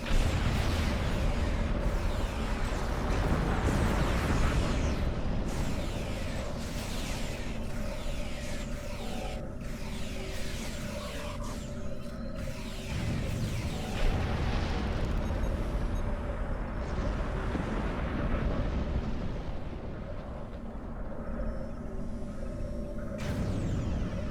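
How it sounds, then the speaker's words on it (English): Repeated grenade blasts and heavy combat rumble from the Star Trek Online video game, a dense, loud, continuous wash of explosions and booms with sharp bursts scattered throughout, no talking. "those grenades are pretty effective"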